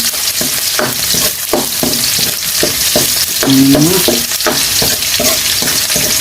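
Garlic sizzles loudly in hot oil in a pan as a sautéing base for corned beef sinigang, a steady crackling fry with rhythmic stirring scrapes throughout and no talk.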